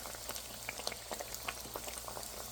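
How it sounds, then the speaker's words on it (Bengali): Padma gaja sweets deep-frying in oil over low heat, giving a steady fine bubbling crackle with scattered soft pops, fairly faint and with no voices. "এভাবে তেলের জাল কমিয়ে রেখে উল্টিয়ে পাল্টিয়ে ভেজে নেব।"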